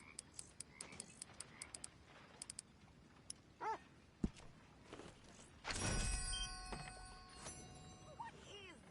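A dog in Red Dead Redemption 2 gives a few short barks midway, then a brief whine near the end, amid distant clicks, a low rumble and soft background noise.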